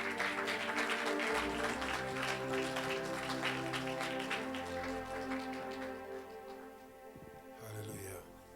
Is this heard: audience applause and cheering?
yes